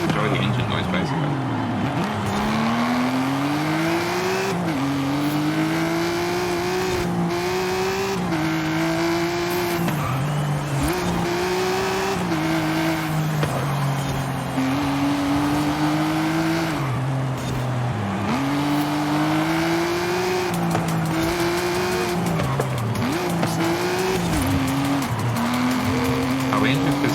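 Aston Martin engine in a video game, revving up and down through repeated gear changes with steady drone and occasional tire squeal, continuous and loud for the whole stretch, with background talk or music layered underneath.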